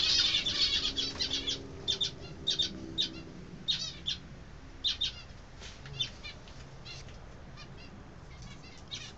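Birds inside a bird house chirp and tweet in quick repeated bursts close by, with bouts of wing flapping mixed in over a steady background hum, and no voices.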